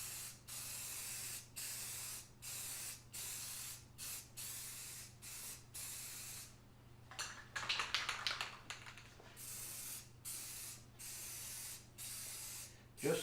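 Dupli-color aerosol spray paint hisses onto interior trim in a steady series of short, even bursts with brief pauses between strokes, a denser rattling stretch in the middle, close and moderately loud with no talking.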